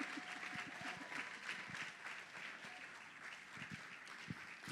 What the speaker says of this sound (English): Please don't stop clapping for